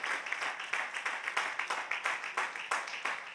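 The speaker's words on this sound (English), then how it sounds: "Clap your hands, y'all." A church congregation claps hands together in steady rhythmic unison, about three claps per second, with a faint murmur of voices underneath.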